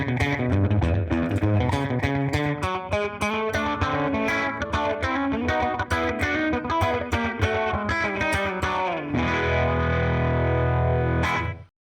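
Electric guitar played through a phaser pedal, a continuous run of bright, sweeping notes with a swirling modulated tone, loud and close, ending with a brief held chord before cutting off.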